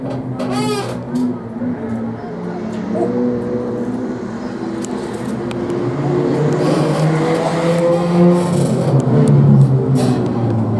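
Race cars in a claimer-class event roar off turn four, a continuous loud engine drone with shifting pitch as the pack passes, plus a brief high squeal near the start.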